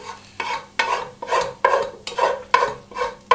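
Softened onions and bacon are stirred together in a pan, with about eight regular scraping strokes of a spoon over a soft sizzle, close and fairly loud.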